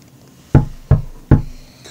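Three firm knocks on a wooden house door, evenly spaced and loud, each a sharp close thud with a brief decay, in an otherwise quiet room.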